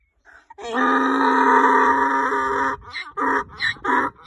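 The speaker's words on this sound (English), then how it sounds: "First of all, say hello to Devious Donkey." A donkey brays in a long loud sustained call, followed by several shorter rhythmic heaving honks, up close and with no talk over it.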